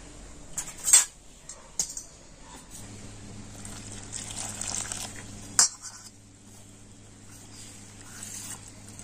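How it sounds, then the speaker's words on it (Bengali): Patishapta batter being mixed with milk in a bowl, soft intermittent scraping and clinking of a spoon against the bowl, with a few sharper knocks, fairly quiet and close, no talking over it. "আর এই দুধে আমি ব্যাটারটা গুলবো।"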